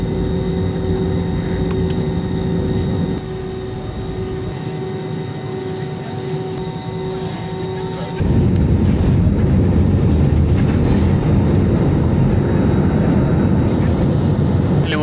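An airplane takes off, a steady loud engine roar heard from inside the cabin that grows fuller and heavier partway through as thrust builds, continuous for the whole stretch.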